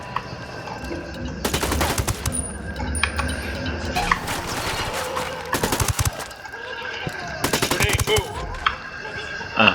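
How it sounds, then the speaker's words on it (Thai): Gunfire while shooting enemies in Ghost Recon Wildlands: several loud bursts of rapid automatic fire crackle in separate clusters, with scattered single shots and game ambience between them. "ต้องยิงให้หมดอะตรงเนี้ย"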